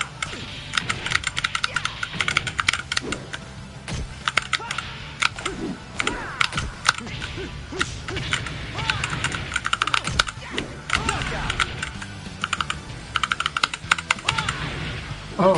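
Rapid, dense clicking of keycap buttons on a Snack Box Micro all-button game controller, loud and continuous throughout, with brief speech in the background.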